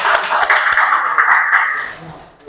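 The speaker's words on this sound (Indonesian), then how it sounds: "berikan tepuk tangan buat kelompok yang kedua" A classroom of students applauds the second group after their demonstration of using protective equipment, a dense wash of many hands clapping together that carries on steadily, then thins out toward the end.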